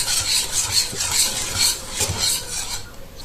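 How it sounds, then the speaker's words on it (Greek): Butter being stirred into hot pastry cream in a pot, a utensil scraping and swishing in steady repeated strokes, close and fairly loud, with no talk. "θα ανακατέψουμε μέχρι να διαλυθεί το βούτυρο"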